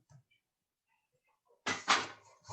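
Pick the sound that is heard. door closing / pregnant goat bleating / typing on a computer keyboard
door closing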